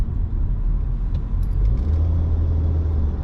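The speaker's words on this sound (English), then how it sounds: "Traffic on Saturday is insane" Heavy Saturday road traffic heard from inside a vehicle, with a continuous low rumble of engines and tyres and a car engine droning close by. It stays steady for the whole stretch.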